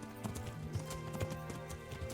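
A horse's hooves clip-clop in quick galloping rhythm as it runs off in the medieval video game Kingdom Come: Deliverance, close and moderately loud with no talk.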